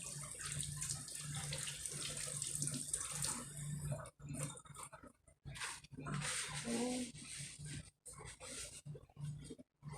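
Tap water running in a kitchen sink while hands are washed during chicken preparation, a soft steady splashing that breaks off and resumes, close and fairly quiet.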